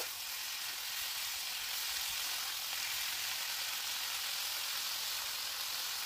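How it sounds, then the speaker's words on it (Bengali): Salted vegetables, including lau data (bottle gourd stems), stir-fry in a pan with a steady, dense sizzle that holds even and fairly loud throughout, with no voices. "এবারে ভালো করে নুনটা মিশে যাওয়া অবধি একটু নেড়ে চেড়ে সবজিটাকে কষিয়ে নেব।"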